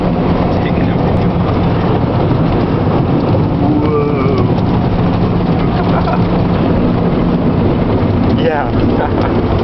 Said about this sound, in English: We're going through Quick Trips Car Wash.